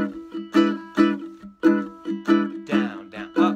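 A ukulele is strummed in a Bo Diddley rumba rhythm, a syncopated chord pattern that repeats with sharp strokes and short gaps, close and bright with no talking.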